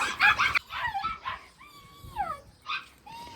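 Dogs in a dog shop in Belgium give short yips, barks and high whining whimpers in uneven bursts, fairly close and moderately loud, with no talking.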